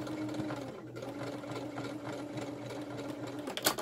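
A sewing machine back stitches a seam on purple leggings with black thread, running as a steady, close mechanical whir with a faint rhythmic needle chatter and a brief louder burst near the end.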